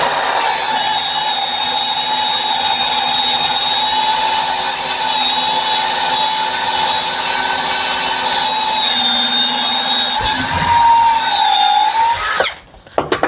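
An Ecosen power drill in drill mode at speed 2 whirs steadily at high speed while boring into wood, loud and close, then winds down and stops near the end with a clatter.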